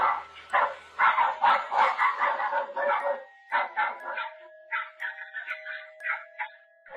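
Dogs bark in a dense, rapid volley of loud, close yelps, then break into sparser, higher yips over a thin steady tone, with no talking.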